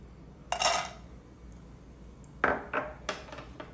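Cashew nuts tipped into hot ghee in a cooking pan clatter and clink in a few short bursts, one near the start and several close together toward the end, over a quiet kitchen background.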